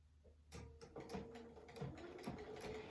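A sewing machine stitches the seam of a project bag with a 2.5 stitch length, a faint, uneven mechanical whirring in short runs with soft clicks between them.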